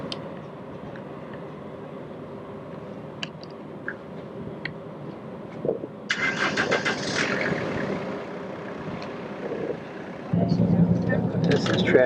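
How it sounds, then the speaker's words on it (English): Bumper-to-bumper traffic on a London street rumbles as a steady low drone of idling engines, with a louder vehicle surging past midway and people talking over it. "This is traffic in London. It's just bumper to bumper almost all the way down."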